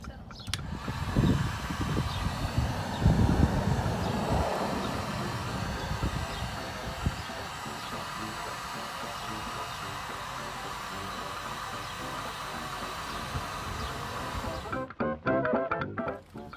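A heat gun warms a 2003 Honda Civic's fender before rolling, blowing with a loud, constant hiss and whoosh for most of the time, then cutting off near the end, with brief handling noise.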